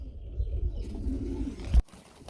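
Lahori pigeons at a pigeon sale coo in low, soft, throaty bursts over a steady murmur, ending in a brief louder knock before the sound drops away.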